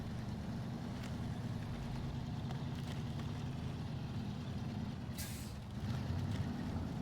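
A heavy truck in the off-road driving game SnowRunner runs with a steady, loud low-pitched engine drone throughout, with a brief hissing air-brake burst near the end; no one talks.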